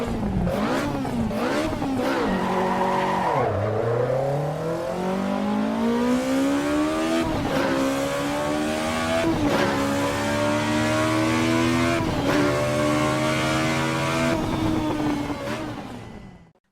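A manual car launches hard from a green light after the clutch drops, engine revving high through rising gear pulls with sharp shifts between them, loud and close with no talking.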